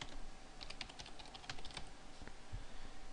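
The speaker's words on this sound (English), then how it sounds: "typing a quick password." Quick, irregular keystrokes on a computer keyboard as a short password is entered, a run of close, crisp clicks and taps with brief pauses between bursts and no voices.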